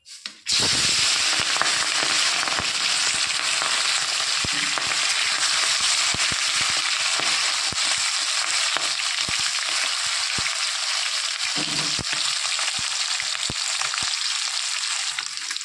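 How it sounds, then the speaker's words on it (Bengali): Tengra fish frying in hot oil in a kadai: a loud, dense, steady sizzle that starts abruptly and holds for the whole stretch, crackling with scattered sharp pops and spits, with no voices. "তেল গরম হয়ে গেছে, এবার মাছগুলো ভেজে নেব"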